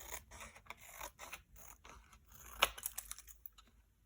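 Scissors snip through material at a cluttered desk while pencil cases are reorganised: a run of quick, close cutting clicks and rustles, with one sharper snap near the end, no talking.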